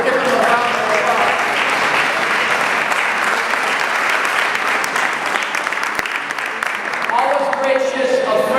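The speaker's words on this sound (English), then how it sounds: "Let's give him a round of applause." Audience applause after a guest is introduced at a public program: sustained, dense clapping from a sizeable crowd, close and loud, with a voice starting near the end.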